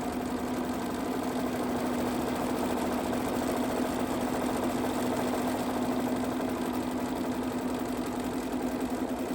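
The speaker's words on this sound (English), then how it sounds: "I'm going to stop my machine." A sewing machine stitches continuously at a steady speed, giving an even mechanical hum and whir that stays close and unbroken throughout.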